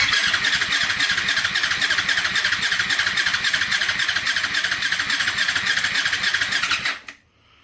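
A Yamaha R6 motorcycle engine cranks over on the starter during a compression test, a rapid steady whirring churn lasting about seven seconds before cutting off abruptly, close and loud.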